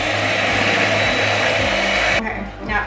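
Electric blender whirring steadily as it blends orange cake batter with orange juice and vanilla essence, a loud continuous motor drone that cuts off abruptly near the end.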